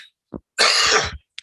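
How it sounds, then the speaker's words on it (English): A single hard cough close to the microphone, preceded by a short throat sound and followed by a faint click, otherwise silent. "I'm going to cough first, obviously."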